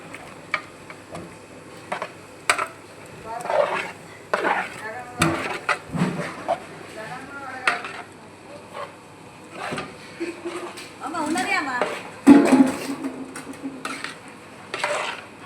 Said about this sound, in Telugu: ఇట్లా పులుసు వేసిన తర్వాత మళ్ళీ కలుపుకోవాలి